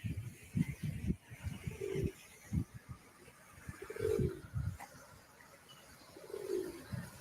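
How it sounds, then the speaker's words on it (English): Town pigeons cooing by the water, soft repeated low coos in several rounds over quiet outdoor ambience. "I think this is where the town pigeons come on their holiday."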